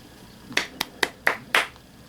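Five sharp hand claps ring out one at a time at roughly even intervals, close and crisp against a quiet background.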